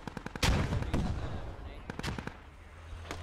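Gunfire and grenade blasts ring out in the video game Squad: sharp repeated shots, a louder explosive boom, then further bursts of fire at close range, with talk in between.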